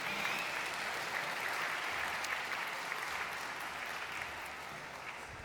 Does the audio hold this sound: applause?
yes